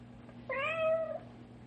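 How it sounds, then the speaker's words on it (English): A single faint cat meow from inside a wall, slightly muffled, rises and falls over half a second against a quiet, humming background. "we'd better get the cat out from between the walls"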